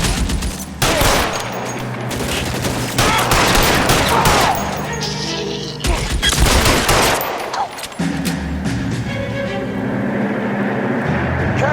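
Bursts of gunfire in the 1940s Los Angeles crime game L.A. Noire, loud dense volleys filling most of the span with a short lull midway, then continuing rapid shots over game ambience.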